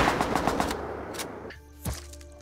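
Rapid automatic AK rifle fire in the survival game Rust during a raid, a quick burst of close, sharp shots in steady rhythm, then a single distant thump and fading ambience.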